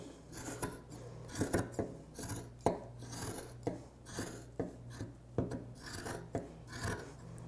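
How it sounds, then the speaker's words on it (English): Scissors snip repeatedly through thick sweater fabric, a steady series of close crunching cuts and rasping scrapes with no talking. "this one's pretty thick, so you have to make sure you have very sharp scissors"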